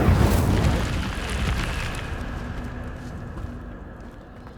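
A fire spell cast in the Hogwarts Legacy video game bursts with a loud whooshing roar at the start, then settles into a crackling, sustained burn that slowly fades over several seconds, with no talking.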